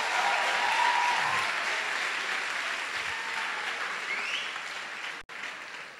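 A church congregation applauding during a seminar service, steady dense clapping that fills the space for about five seconds before a brief break and then resumes.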